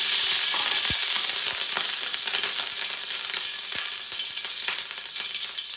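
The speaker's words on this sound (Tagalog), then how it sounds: "lagay naman tayo ulit ng mantika" Cooking oil sizzles steadily in a pan for spicy shrimp silog, a dense close crackling hiss with scattered sharp pops and scrapes of a utensil.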